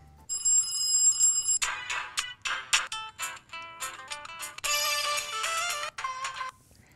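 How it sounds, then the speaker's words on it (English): A Fairphone ringtone plays alone and up close: a bright, melodic electronic tune built from quick repeated notes, ringing steadily for several seconds. "now you're all set, and you can go back, and you have your Fairphone ring"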